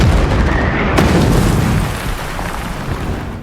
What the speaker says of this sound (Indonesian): sehingga tempat itu pun dibombardir